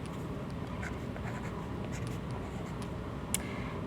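Handwriting a chemistry equation, marker or pen strokes scratching steadily and softly throughout, close and alone with no talk.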